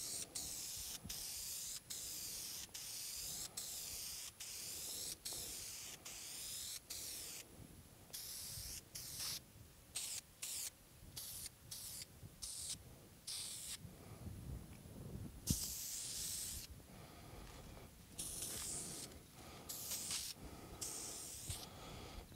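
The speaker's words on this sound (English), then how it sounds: "Now I do want to spray a little heavier on the sides" A spray gun lays finish onto a guitar body in hissing bursts, first a regular series of short sprays, then longer, uneven passes, close and fairly loud with no talk.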